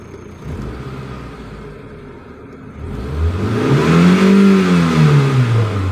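A Mitsubishi Lancer GLXi engine idles with a low rumble, then revs hard, its pitch climbing and falling back as it winds up close and loud, with no talking.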